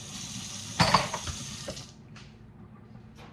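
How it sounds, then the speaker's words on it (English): Spoons used for mashed potatoes rinsed under a running tap: a close splash and clatter of metal in the sink, then softer flowing water fading out, with no talking. "rinse those spoons. Rinse them out."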